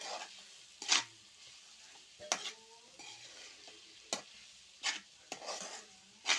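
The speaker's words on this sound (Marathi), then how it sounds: "सोयाबीन चांगले परतून घेऊया." Soybeans sautéing in hot oil in a pan, a low sizzle broken by repeated sharp scrapes of a spoon stirring at irregular intervals, close and fairly quiet.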